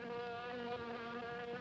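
A fly's insect buzz drones steadily and fairly faintly throughout, with a wavering pitch and no speech over it.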